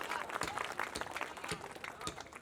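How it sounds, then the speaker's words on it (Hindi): An audience at a Hindi comedy poetry gathering claps in a thin, uneven patter of scattered handclaps, fairly faint and brief, with a few louder individual claps standing out. "तालियां कमजोर हैं आपकी"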